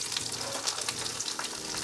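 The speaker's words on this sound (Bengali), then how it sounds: "এবার রসুনটা একটু ভাজা ভাজা হবে" Garlic fries in oil with cumin seeds and split dried chillies for sour spinach, a brief close sizzle of fine crackles and small pops with no talking.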